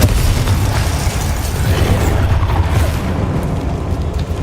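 A Confringo fire spell bursts in Hogwarts Legacy, a loud, sustained explosive roar with rumbling low end that fills the whole moment and slowly fades near the close.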